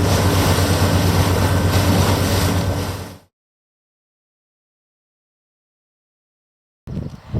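Ferry crossing between Tarbert and Cowal in Argyll, with loud wind and rushing waves against the boat for about three seconds, then sudden silence before the noise briefly returns at the end.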